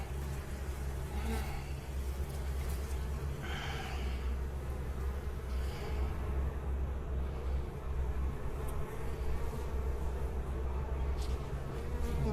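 Honey bees buzzing around an open hive during an inspection on the Mississippi coast, a continuous close drone with individual bees flying past the microphone, and brief soft handling noises throughout.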